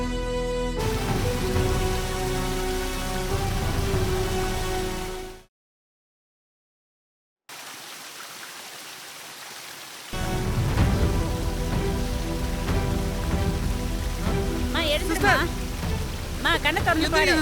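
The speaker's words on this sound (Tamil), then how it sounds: "என்ன அது திடீர்னு அந்த இடத்துல மட்டும் மழை பெய்யுது?" Rain falls in a dense, steady hiss that cuts out abruptly, then returns and grows heavier, with a voice speaking briefly over the downpour.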